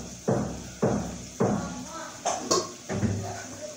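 Lid set onto a cooking pot while fish cooks for lunch, a few close clattering metal knocks and taps at irregular intervals, with a voice speaking alongside.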